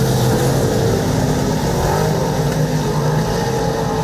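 V8 dirt modified race cars roar around a dirt track during a heat race, a dense, continuous engine drone that stays loud and steady with no pauses.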